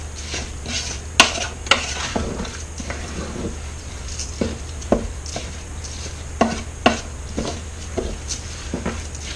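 Mushroom risotto with seasoning salt is stirred in an Instant Pot, a low steady hum under intermittent spoon scrapes and sharp clinks against the metal inner pot, close up and without talking.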